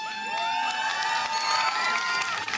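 A crowd cheers and whoops for the Luxembourg-based iSpace Europe lunar rover team, a lively burst of shouting and high excited voices that stays loud and steady throughout.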